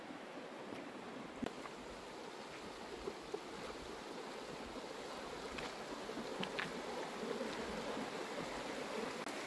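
Río Blanco, a glacial meltwater river fed by waterfalls along a Sierra Nevada trail in Conguillío National Park, Chile, gives off a steady, even rushing wash that sounds faint and distant, with no voices.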